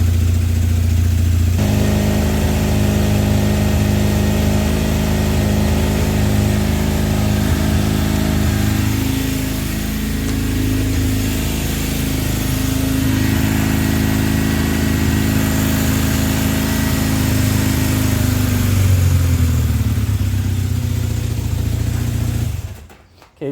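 A 1978 Kawasaki KZ400B motorcycle engine, freshly started on a charged battery, runs steadily at a close, loud idle with slight rev changes for over twenty seconds before cutting off abruptly.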